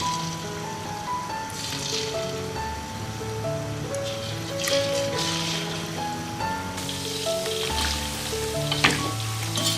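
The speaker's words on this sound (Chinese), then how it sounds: "油热，我们把裹好面糊的这个肉条给它下锅炸一下" Batter-coated pork strips deep frying in hot oil for sweet and sour tenderloin, giving a steady, close sizzle with crackling bursts that swell partway through, while faint tonal sounds run underneath.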